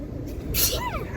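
A single short sneeze bursts out inside a moving train carriage, set against a low rumbling background of travel noise.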